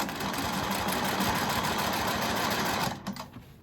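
A sewing machine quilting along a fabric border runs in a steady, dense mechanical buzz for about three seconds, then slows and stops near the end.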